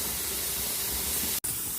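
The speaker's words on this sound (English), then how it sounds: "Once that bit pops up and it starts to steam regularly, they're up to pressure" A pressure canner on a gas stove, processing ratatouille, steams at full pressure with a loud, steady hiss that cuts out for an instant near the end.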